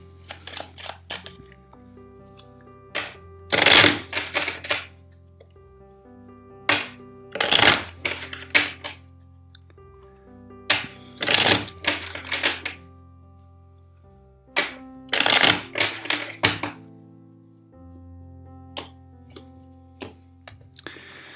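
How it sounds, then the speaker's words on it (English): Tarot cards are shuffled in four separate bursts of crisp riffling and flicking, each followed by softer taps and card handling, close and clear with no talking. "First, let's shuffle four times."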